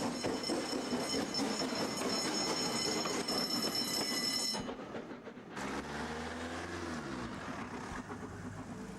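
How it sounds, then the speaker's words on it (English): Somerset and Dorset Joint Railway 2-8-0 steam locomotive No. 88, built 1925, departs Dunster on the West Somerset Railway, its loud rumbling exhaust and rolling wheels close by, then a deeper drop in sound as it moves off with a whistle-like tone. "Departing Dunster is number 88. A 280 from the Somerset and Dorset Joint Railway"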